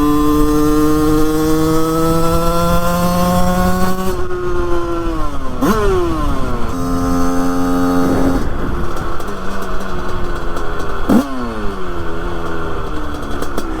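A 100cc 2Fast two-stroke engine, freshly carburettor-tuned, revs loudly and close, its buzzing pitch rising and falling through several throttle blips with sharp drops between pulls.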